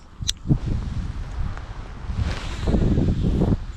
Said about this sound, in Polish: Wiatr jest przeogromny.